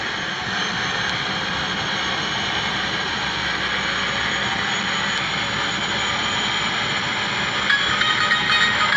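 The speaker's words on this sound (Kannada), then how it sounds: "ನಮ್ಮ ಗೇಮ್ ಆ್ಯಕ್ಚುಲಿ ನಮ್ಮ ಇದರಲ್ಲಿ ಈ ಹೆಲಿಕಾಪ್ಟರ್ ಓಡಾಡುತ್ತೆ ನೋಡಿ" A helicopter in the Truck Masters India driving game gives off a steady whooshing engine drone, constant and fairly loud throughout with little change in pitch.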